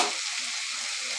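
Bottle gourd and potatoes sautéing in a pan, a dense continuous sizzle with no voice, steady and fairly close for a brief moment.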